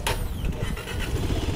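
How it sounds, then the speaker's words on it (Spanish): A Victory Zontes 350 R1 motorcycle engine cranks and fires up with a sharp burst, then settles into a steady, loud, close rumble throughout. "Ahí la voy a encenderla. Recuerden que para encender esta motocicleta hay que tomar el clutch"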